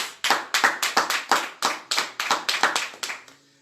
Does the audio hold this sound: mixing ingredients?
no